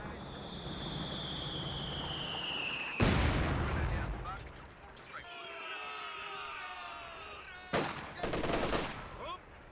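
Battle din from the real-time strategy game Company of Heroes 2, with an MG34 machine gun loosing short bursts amid broader gunfire and sharp impacts, with loud bangs near the middle and end, under game ambience.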